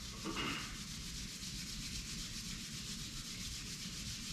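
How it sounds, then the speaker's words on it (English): Two palms rubbed together during a yoga session, a steady close, dry swishing friction that runs unbroken throughout, with a brief brighter scrape near the start and no talking. "Rub your palms"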